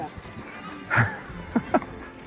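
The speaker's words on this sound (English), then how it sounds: "A boy and his goats." A few short bleats from goats by the Laja River near San Miguel de Allende, Mexico, one longer call followed by two brief ones, heard over soft outdoor background noise.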